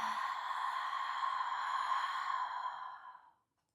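A long, steady ujjayi ocean-breath exhale through a constricted throat, close and soft with a hissing, wave-like rush that holds evenly for about three seconds before fading to silence.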